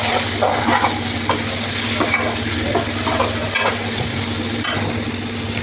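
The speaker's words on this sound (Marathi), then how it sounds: "टाकू आपण हा मटर आपला तेलावर फ्राय केलेला बटाटा टाकते तेलावर फ्राय केलेला" Fried potatoes and peas being stirred in hot oil for a Marathi vegetable dish, a steady sizzle under repeated scraping and clinking of the spoon against the pan.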